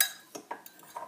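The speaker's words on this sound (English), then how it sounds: "So I'm stirring that up." A spoon clinks and scrapes against a bowl while stirring a mix made with Vega powder, giving several light, close taps in a short run with no talk.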